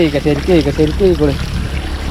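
Cold spring water pours from a pipe in a continuous splashing trickle while a person talks over it for the first part, then the flow continues alone.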